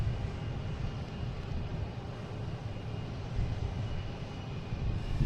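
A JetBlue Airbus A220 jet airliner at Boston Logan airport gives a steady, broad engine roar with a low rumble that holds fairly constant throughout and swells slightly near the end, with no talk.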